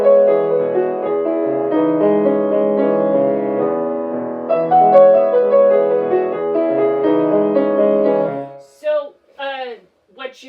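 Solo piano plays the main theme of Debussy's First Arabesque, flowing arpeggiated lines with left-hand duplets against right-hand triplets, close and clear, before a voice begins speaking near the end.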